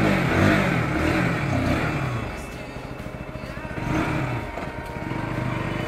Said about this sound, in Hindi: गाड़ी अभी अभी स्टार्ट हुआ है गाइस, इसलिए थोड़ा सा मिस दे रहा है।